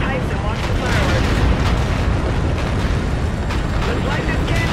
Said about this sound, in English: Let's get visual on that tower detonation.